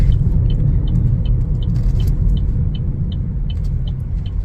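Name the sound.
2025 Chevrolet Trax 1LT driving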